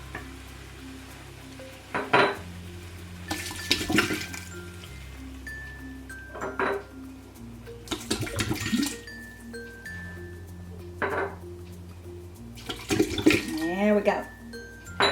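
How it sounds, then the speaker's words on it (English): Four 8-ounce bottles of clam juice are poured into a pot for seafood chowder, with splashy pours recurring through the stretch amid clinks and kitchen clatter. "and I'm just gonna pour them right in."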